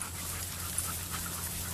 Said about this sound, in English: Look at my little bulldog.